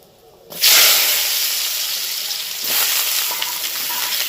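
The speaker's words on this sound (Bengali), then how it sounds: "এবার এর মধ্যে দিয়ে দিচ্ছি ছোটো ছোটো করে কাটা আলু" Small-cut potatoes hitting hot oil seasoned with cardamom, cinnamon and bay leaves set off a sudden loud, steady hiss of frying that continues close and bright after a quiet start.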